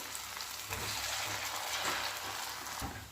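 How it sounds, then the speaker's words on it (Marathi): Small sabudana pakoras dropped into hot oil over medium-low gas fry with a steady, dense crackling sizzle, loud and close, with no voices. "तेल इथे छानपैकी गरम झालेलं आहे आता छोट्या छोट्या ह्याच्यात पकोडे आपण टाकून घेऊया"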